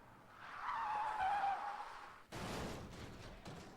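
A car's tires squeal in a long, loud skid in Ultimate Spider-Man, swelling and then cutting off. A harsh burst of crash-like noise follows abruptly and settles into a rough rumble.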